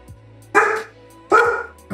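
A dog barks twice close by, two loud, separate barks under a faint steady background hum, with no talking.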